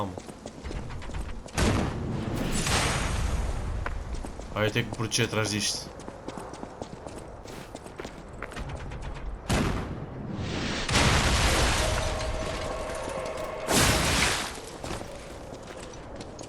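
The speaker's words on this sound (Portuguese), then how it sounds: "Ai, é um canhão." Booming cannon blasts burst out several times amid game sound effects in Lies of P, while a person talks excitedly over the action.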